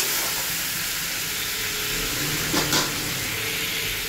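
Spice paste sizzles in hot oil in a pan, a steady bright frying hiss throughout with a brief louder crackle near the end, close and with no one talking.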